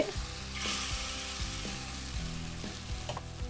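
Green gram paniyaram batter sizzling in a pan over low heat: a continuous gentle frying hiss with faint clicks and rattles, close and quiet, no speech.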